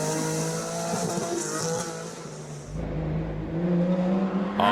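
A flat-engined Porsche rally car races flat out, its loud tonal engine note wavering, briefly dipping and then surging back harder toward the end. No voices are present.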